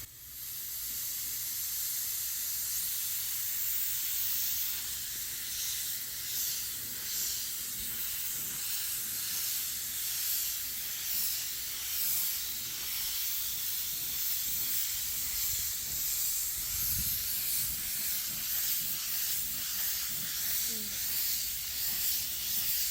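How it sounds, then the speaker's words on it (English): A spray gun lays base coat paint onto the bumper of a C8 Corvette in Arctic White during a mobile bumper repair, producing a continuous airy hiss that holds steady at moderate level for the whole stretch with slight pulsing. "I'm going to throw a couple of coats of base coat on"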